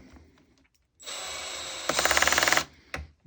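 Milwaukee 12V drill driver driving a screw with its clutch set at 8: a short motor whir, then a rapid burst of ratcheting clutch clicks before it stops, close and loud in a quiet room.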